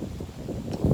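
Gusty wind buffets an outdoor microphone with a low, rumbling roar that swells toward the end, with no talking.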